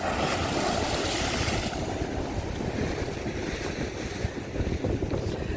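Stormy sea at Arkadia beach in Odesa, with strong wind roaring against the microphone and waves surging in a steady wash, loud and continuous with no voices.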